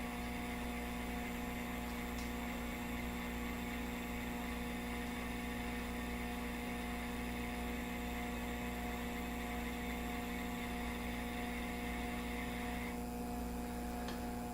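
The motor of a Nautel antenna tuning unit hums steadily as it tunes, a constant electrical drone with a tonal whine that barely changes across the whole stretch.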